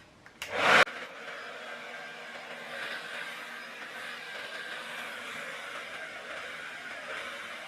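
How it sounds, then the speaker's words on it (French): Handheld hair dryer fitted with a comb attachment taped in place, switching on with a sharp burst and then blowing as a steady, close, loud airflow roar with no talking. "Donc j'avais ce sèche-cheveux là. Et j'ai acheté ça parce que je voulais un embout peigne."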